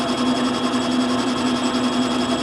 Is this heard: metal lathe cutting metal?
yes